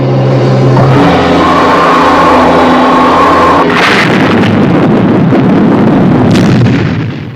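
A weapon fires with a massive blast in an undersea scene from the Stingray TV series, a sustained roaring explosion that saturates everything for about seven seconds, with a second crackling surge midway before it tails off.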